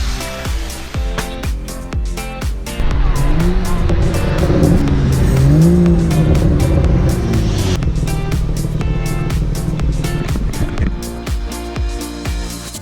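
A BMW F30 335i with a VRSF catless downpipe and Corsa exhaust revs and roars with a raspy exhaust note, rising and falling, with crackles and pops as the throttle lifts.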